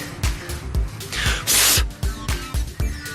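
Short bursts of aerosol cleaner spray hiss on an abandoned KT196 go-kart, with one longer, louder spray in the middle, set among clicks and handling noises close by.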